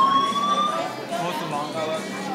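A fire alarm in a Steak n Shake restaurant in Las Vegas sounds a steady electronic tone with slowly drifting pitch, while people talk nearby.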